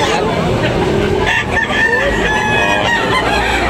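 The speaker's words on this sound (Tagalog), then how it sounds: "Guwapong manok." A fighting rooster at a Tabunok, Talisay, Cebu rooster sale crows loud and close, with clucking fowl and busy crowd noise mixed underneath.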